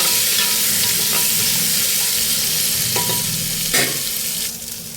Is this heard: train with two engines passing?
no